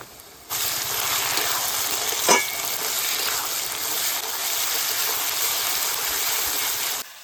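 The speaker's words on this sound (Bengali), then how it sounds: "এবারে এটাকে ভালো করে ভেজে নেব।" Onion, ginger-garlic paste, green chili and chopped tomato fry in a pan with a steady, loud hiss that begins abruptly, carries on without a break and stops short, with one sharp clink partway through.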